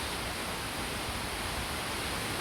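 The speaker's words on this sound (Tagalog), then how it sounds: "Mantayupan Falls." Mantayupan Falls, a waterfall, pours as a steady, dense rush of broadband water noise, continuous and fairly loud, with no distinct events or voices over it.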